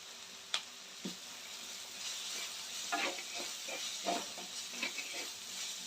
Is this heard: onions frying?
yes